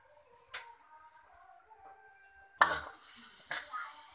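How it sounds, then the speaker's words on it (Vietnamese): Onions are dropped into a hot pot and stir-fried for mussel porridge, a quiet clink followed by a sudden loud sizzle that keeps hissing steadily, with another stirring scrape near the end. "Rồi để hành vô. Xào tiếp tục, quá thơm."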